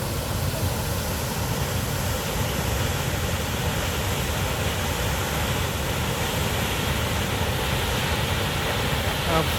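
Duden Waterfall near Antalya, Turkey, water pouring out of rock, a dense, steady roar of falling water, loud and unbroken throughout with no voices.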